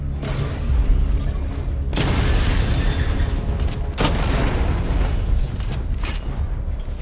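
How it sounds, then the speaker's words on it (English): Heavy booming explosions from destroying targets in the video game Batman: Arkham Knight, dense rumbling blasts that swell in waves around two and four seconds into a continuous roar, with no talk over them. "Destroy targets to charge up weapon energy and activate missile barrage."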